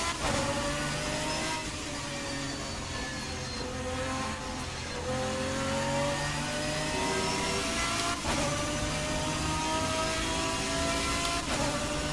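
A Lamborghini GT1 race car engine in Assetto Corsa, racing at Okayama: a loud, continuous snarl that climbs steadily in pitch through each gear, broken by abrupt shifts where the revs drop and build again.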